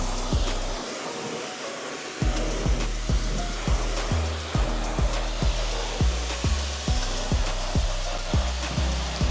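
A hose rinses car wheels with a steady loud spray of water, broken by rhythmic pulsing knocks from a pump running underneath.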